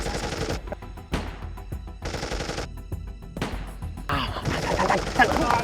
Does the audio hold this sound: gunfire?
yes